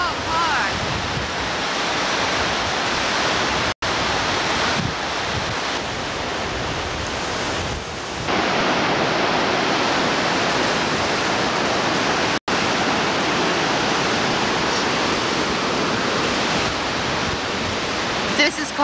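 Powerful waterfall at the Grand Canyon of St. Anne in Quebec, roaring as a loud, dense, continuous wash of rushing water heard up close with spray, steady throughout and briefly cut twice.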